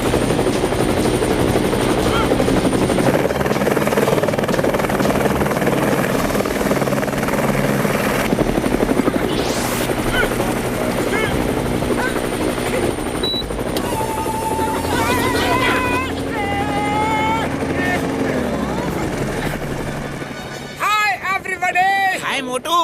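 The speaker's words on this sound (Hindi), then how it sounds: "इस हेलीकॉप्टर का कुछ करना होगा ताकि वो इस पे केमिकल गिरा ना सके।" A cartoon helicopter in a Motu Patlu animated film thrums with a steady, loud rotor drone throughout, under excited talk, sound effects and music, before a burst of squeaky cartoon noises at the end.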